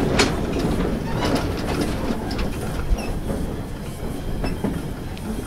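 A steam train rumbles along continuously with steady rolling noise and occasional clicks and clanks, fairly close, with no voices.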